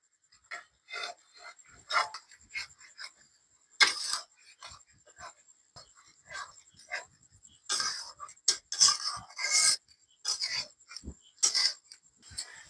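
Eggs and potatoes being sautéed with spices, heard as intermittent scraping and rasping strokes of a utensil against the pan, irregular and close, with quiet gaps between bursts.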